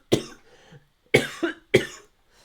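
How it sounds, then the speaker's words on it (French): A person coughs three times in sharp, separate bursts, close to the microphone, with a brief follow-up rasp after the second. "Désolé si je tousse."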